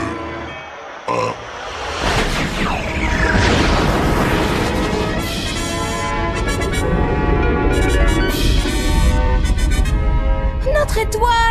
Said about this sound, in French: Notre grande et belle étoile vient d'exploser en 1000 morceaux!